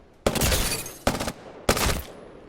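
Prowler SMG in Apex Legends firing three short rapid bursts, each a loud dense rattle separated by brief pauses, with a fading tail after the last, no talking.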